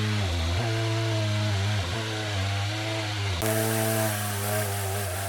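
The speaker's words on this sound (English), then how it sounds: "it starts to wiggle a little bit as the saw works its way down the log" A Stihl MS661 chainsaw mounted on a Granberg Alaskan sawmill rips lengthwise through a maple log, its engine holding a loud, steady high-revving drone with slight pitch wavers as the cut progresses.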